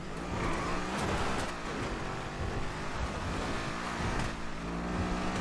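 Loud car engine roaring steadily with a rough, revving drone, close and continuous, with no voices over it.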